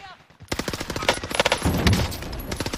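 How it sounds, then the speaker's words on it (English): Rapid bursts of automatic gunfire from teammates in a battle royale video game, dense overlapping shots crackling loudly for a couple of seconds after a brief quiet start. "Let's get some team fire here."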